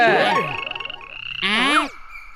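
A small cartoon frog from the Indian animated series Motu Patlu croaks twice, loud and close, each call a warbling, springy croak with a brief pause between, with no speech.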